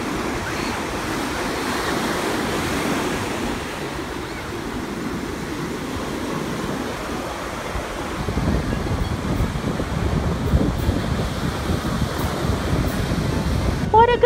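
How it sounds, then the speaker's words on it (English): Ocean waves wash steadily onto a beach at Cancun, a broad continuous roar of surf that swells louder in the second half, with some wind buffeting the microphone. "The sound of the waves calm you down"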